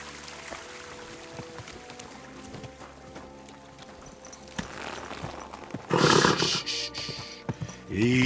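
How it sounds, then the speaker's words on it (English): Hooves clip-clop at a steady walking pace in Kingdom Come: Deliverance, sharp repeated knocks over a low background, then a burst of louder, harsher noise near the end, with no talk over the steps. "Easy, good horse."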